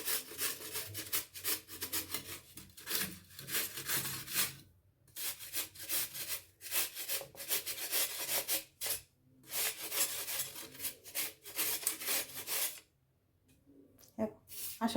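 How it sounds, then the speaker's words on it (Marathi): Carrots rubbed against a hand grater in a home kitchen, a steady rhythmic rasping of quick strokes close by, with a few brief pauses between bursts. "मी थोडं तुम्हाला किसून दाखवते."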